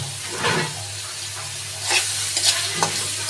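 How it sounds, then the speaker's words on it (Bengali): Prawns fry in hot oil, giving a steady low sizzle with a few brief stirring scrapes and bursts; no voices. "দিয়ে চিংড়ি মাছগুলো ভেজে নিতে হবে"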